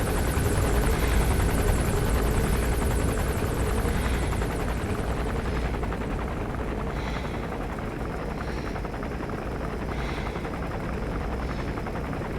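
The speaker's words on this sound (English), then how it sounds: "That's an enemy gunship." An enemy gunship helicopter in Metal Gear Solid V, its rotor and engine drone steady and fairly close throughout, with faint rhythmic chopping and a slight fade after the first few seconds.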